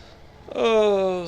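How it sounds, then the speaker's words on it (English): A slow tractor in Farming Simulator 17 starts a low, droning engine hum partway through, holding steady and fairly loud with a slight downward drift in pitch. "Oh, such a slow tractor."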